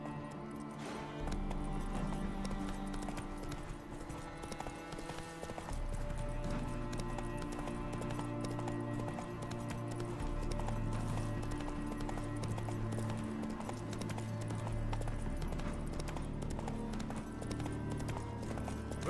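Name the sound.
horse galloping hooves in The Witcher 3 video game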